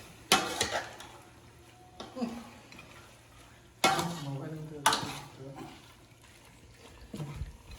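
Whole spices, tomato, onion and green chilli frying in oil in a pot over a wood-fired stove, with bursts of sizzling and stirring that flare up several times and then settle, heard close by.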